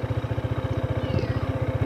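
A motorcycle engine idles steadily nearby during a licence test ride at a Land Transportation Office site, its rapid, even putter pulsing throughout with faint background noise.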